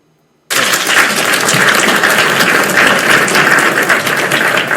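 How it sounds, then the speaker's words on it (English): A very loud applause sound effect on a podcast cuts in abruptly after a moment of silence, then keeps up a dense, even wall of clapping to the end. "No, that was an applause"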